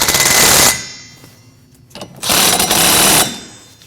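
15mm nuts on the windshield cowl panel of a 2014–2023 Jeep Cherokee are run down with a power tool in two loud rapid rattling bursts, separated by a quieter pause with faint clicks.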